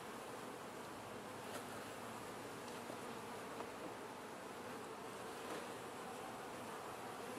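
Honey bees from a swarm building out new comb and brood nest hum in a steady, dense buzz that holds without a break, close and moderately loud, with no talk.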